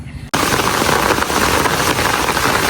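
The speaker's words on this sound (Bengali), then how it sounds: "যেমন বৃষ্টি তেমন বাতাস।" Heavy rain and wind roar in suddenly after a short quiet moment, then continue as a dense, steady, loud wash of noise.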